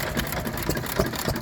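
Miniature traction engines run at a rally at Fort Paull Battery, a steady mid-loud mechanical chug with faint rhythmic pulses throughout the brief moment.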